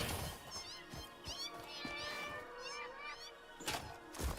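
Kittens that stand in for spiders in Satisfactory's arachnophobia mode give repeated rising and falling meows close up, several overlapping cries over faint background game sound, with brief thumps near the end.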